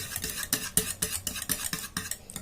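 Chocolate mixture stirred with a utensil in a bowl or pan, a steady series of rhythmic scraping strokes, close and moderately loud, with no voices.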